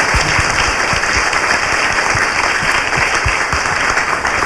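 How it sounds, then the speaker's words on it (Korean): Studio audience clapping steadily and loudly, a dense continuous burst of applause with no voices over it. "박수 부탁드려요"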